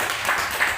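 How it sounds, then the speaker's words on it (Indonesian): Brief burst of audience clapping at an Indonesian teacher-training session, a short, fairly loud patter of many hands with no speech over it. "Tepuk tangan buat Ibu."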